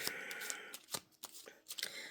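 Playing cards are shuffled by hand in a quick series of crisp riffling and flicking bursts, close and fairly quiet, with brief pauses between them.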